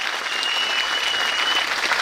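Crowd applause rings out at a Republican People's Party holiday greeting event in Mersin, steady and continuous clapping at a constant level for a couple of seconds.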